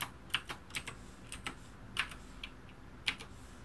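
Typing on a computer keyboard, a handful of separate light key clicks at an uneven pace, close and fairly quiet with no talk.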